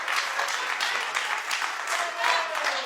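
Applause from a television talk show studio audience, with a co-host clapping along, forming a steady, dense wash of hand claps at moderate loudness with a few brief swells and no talk.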